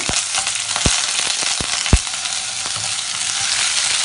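Ginger garlic paste and whole spices such as star anise and cardamom fry loudly in hot oil with a crackling hiss, while sharp pops and spatula taps strike at intervals; no one speaks.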